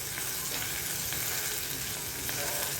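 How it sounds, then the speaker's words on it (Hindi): Chopped onion, garlic cloves and a piece of ginger fry in a pan with a steady, dense sizzle, close and continuous throughout. "मैंने यहाँ पर डाल दिया प्याज और 1 इंच अदरक का टुकड़ा। इसे भूनने देंगे।"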